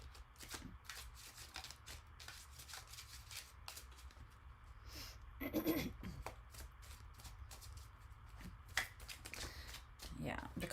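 Tarot cards being shuffled in the hands, a soft continuous riffling and rubbing with a few sharper flicks as cards slip loose, heard close and quiet beneath a speaking voice.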